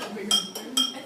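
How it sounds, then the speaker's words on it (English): A spoon stirs salt into water in a glass, tapping the sides in a few quick, bright clinks close by, over a faint background murmur. "And we'll stir this to get the salt to dissolve."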